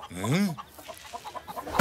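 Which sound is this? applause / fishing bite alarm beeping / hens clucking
hens clucking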